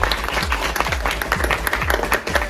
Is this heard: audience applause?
yes